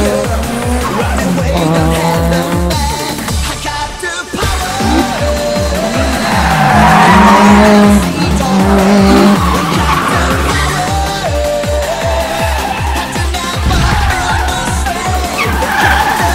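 A Toyota AE86 with a mechanically tuned, high-revving engine screams loudly as it accelerates hard, its pitch climbing and shifting through gears, with tire squeal mixed in.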